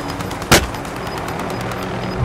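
A single sharp gunshot cracks once early on in a video game firefight, standing out loud against a steady background of ambient game noise.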